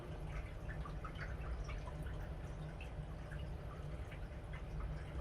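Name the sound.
water dripping during coral drip acclimation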